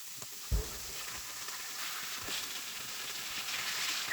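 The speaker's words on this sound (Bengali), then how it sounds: "মাছগুলোকে ভেজে নিচ্ছিলাম।" Nola fish fry in hot oil with a steady, bright sizzle that holds throughout, broken by one soft thump near the start.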